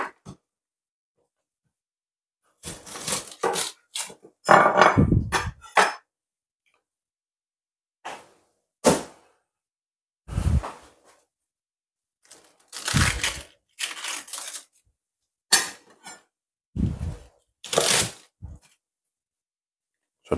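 A knife cutting through cabbage for creamy coleslaw, heard as close, crisp crunching chops in irregular bursts separated by silent pauses.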